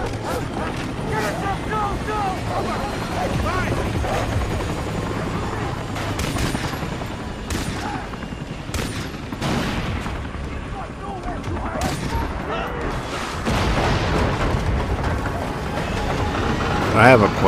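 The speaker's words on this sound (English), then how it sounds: "Oh shit, and all this gunfire just take off." Far Cry 3 combat with bursts of gunfire and booming explosions around a helicopter, sharp shots recurring irregularly over a dense rumbling bed while someone talks over the action.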